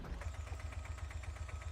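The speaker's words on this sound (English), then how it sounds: "Just start the engine again so I don't run out of power." A simulated vehicle engine in the Gear Blocks building game runs with a steady, rhythmic chugging pulse, faint and even throughout, with no voices.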